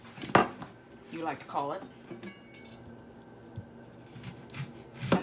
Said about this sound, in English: I'm going to cut red onion, purple onion, whatever